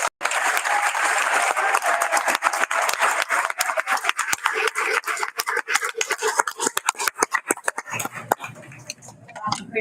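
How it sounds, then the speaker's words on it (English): Board of Education meeting attendees applaud their honorees, a loud, sustained round of clapping that thins into scattered individual claps near the end. "Please join the Board of Education in giving all of our honorees another round of applause"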